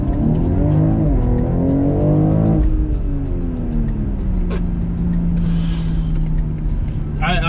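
A 2022 BMW X3 M Competition accelerates hard from a standstill in a 0-60 run, its engine revving loudly and rising in pitch through several gear changes, with a brief tire squeal and a voice speaking over it.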